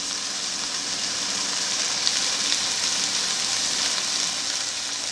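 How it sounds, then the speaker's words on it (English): Bell peppers sautéing in oil with garlic powder give a steady, bright sizzle and crackle, continuous and close throughout with no voices. "You probably need to add some oil as you're sauteing."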